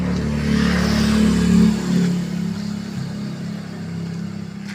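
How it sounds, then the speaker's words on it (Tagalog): A motor tricycle's engine revs up nearby, its buzzing drone rising and holding, then dropping back toward idle near the end. "Tricycle!"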